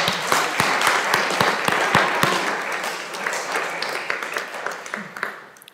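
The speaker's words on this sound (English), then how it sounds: "Can we have a round of applause for sticking it out?" Audience applause after a call to clap, a burst of many hands with distinct sharp claps early on, gradually thinning and fading over a few seconds.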